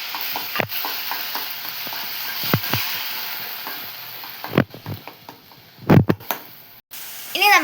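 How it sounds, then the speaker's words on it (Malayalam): Ginger garlic paste frying in coconut oil in a pan gives a low, steady hiss, with scattered sharp clinks and scrapes of a spoon stirring against the metal. "ഇനി നമ്മൾ ഇവിടെ ഇട്ട് കൊടുക്കാൻ പോകുന്നത് ഇഞ്ചി വെളുത്തുള്ളി പേസ്റ്റാണ്."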